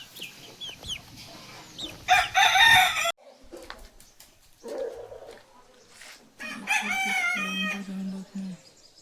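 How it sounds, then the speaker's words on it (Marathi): Rooster crowing in a Konkan village during Holi festivities, two loud, strained crows a few seconds apart, with brief voices and background sounds between them. "हा कोंबा आहे भाई."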